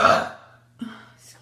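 A single loud burp erupts at the start and trails off, followed by a shorter, softer belch and a brief third rumble near the end, close and alone over a faint low hum.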